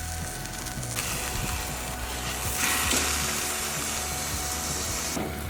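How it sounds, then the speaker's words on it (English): Ribeye steak sizzling in a pan on a camp stove outdoors, a steady broadband hiss of frying fat holding throughout with a few soft clinks and a brief swell near the middle. "I fired up the stove and got the ribeye cooking."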